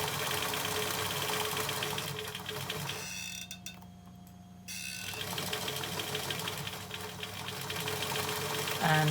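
A sewing machine stitches a scrubs hat in steady whirring runs, close by, with a brief quieter pause in the middle before the motor picks up again.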